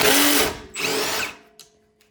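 An 8mm socket on a power driver spins out screws on a Craftsman M100 lawn mower: two loud whirring bursts back to back, then fading clicks and faint ringing.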